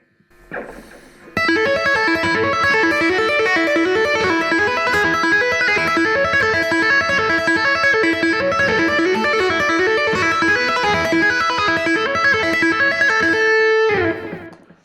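Rapid, bright tapped open-string guitar arpeggios ripple continuously over a 1-4-5-1 chord progression, evenly paced and prominent, ending with a brief ringing fade.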